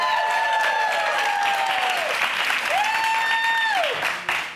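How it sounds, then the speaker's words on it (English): Studio audience applauding after a sweater world record attempt, steady loud clapping and cheering that carries through nearly five seconds before tapering at the end, with faint voices under it. "Do not applaud that."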